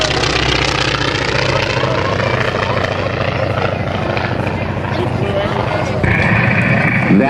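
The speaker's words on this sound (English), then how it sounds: "The T-28 Trojan now inbound for its high-speed pass" A T-28 Trojan radial-engine airplane roars past on a high-speed pass at an airshow, a loud sustained engine drone with a sharp rise in pitch and intensity near the end as it passes close.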